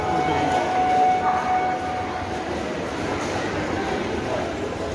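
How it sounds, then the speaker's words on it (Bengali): Train standing at the station before departing for Darjeeling, giving a loud continuous rumble with a faint high whine and steady platform noise throughout, no other distinct events standing out. "ট্রেনও চলে এসেছে, ট্রেন লাগিয়ে দিয়েছে, জাস্ট একটু পরে ট্রেন ছাড়বে"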